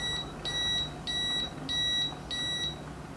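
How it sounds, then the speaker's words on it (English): A baby food cooker beeps when its cycle finishes, sounding four evenly spaced, shrill electronic beep bursts, each with a quick double pulse, over a faint room hum. "my baby cook just stopped"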